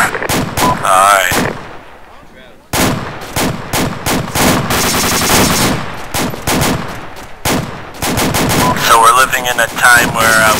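Rapid bursts of machine gun fire in the military video game Arma II, loud and close, the rattling volleys broken by short pauses and a few silent gaps.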